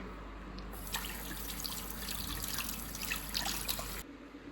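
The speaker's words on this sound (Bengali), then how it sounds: "দাও, মুখ ধুয়ে দিই তোমার।" Running tap water streams and trickles steadily into a sink, splashing lightly as a child's face is washed, continuous for several seconds before cutting off, with no voices over it.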